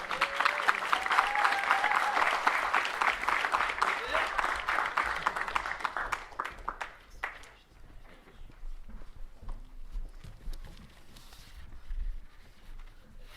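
A crowd applauds steadily, loud at first, then the clapping thins and fades while voices and footsteps carry on in the background.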